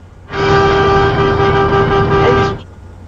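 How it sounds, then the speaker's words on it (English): A loud, steady truck air horn blast held for about two seconds, harsh and brassy, then cut off abruptly. "They just wanted me to blow the air horn for them."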